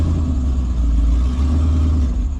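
A Nissan Patrol fitted with an LS1 V8 and no power steering pulls away, its deep engine rumble steady and close, with no talk over it.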